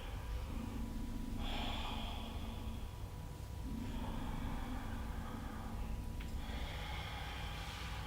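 Slow yoga breathing: long, drawn-out inhales and exhales repeat in an even rhythm over a quiet, steady background hum.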